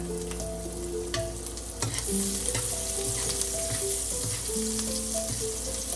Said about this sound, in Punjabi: ਹੁਣ ਅਸੀਂ ਲਸਣ ਪਾ ਦਵਾਂਗੇ ਵਿੱਚ